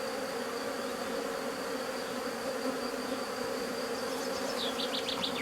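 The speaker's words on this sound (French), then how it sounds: "il reste 2-3 abeilles, c'est tout" A steady, dense buzzing of honeybees fills the clip, a close swarm humming continuously without any voices.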